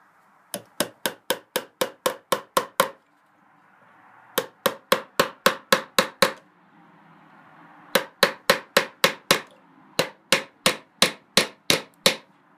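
Nails are hammered into a wooden box in four quick bursts of sharp, evenly spaced blows, about eight to ten strikes each, loud and close with short pauses between bursts.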